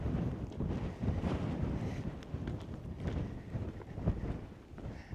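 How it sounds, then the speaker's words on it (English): Strong wind blows hard across a cold hilltop, buffeting the microphone in a steady, rumbling roar that swells and eases without letting up. "It's actually kind of cold on top of this hill with this wind. It's blowing hard."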